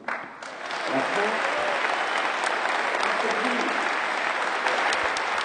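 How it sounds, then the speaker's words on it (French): Business leaders applaud at a summer university event after a speech by Manuel Valls, building quickly into loud, sustained clapping as the audience rises to its feet, with some voices mixed in. "Des applaudissements et même des chefs d'entreprise debout à l'issue du discours de Manuel Valls"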